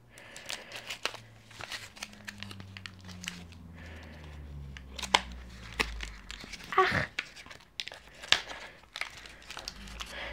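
Nail stamping supplies packaging being cut open, with crinkling plastic and sharp snips coming in irregular bursts close by, plus a few scattered taps and rustles and no talking.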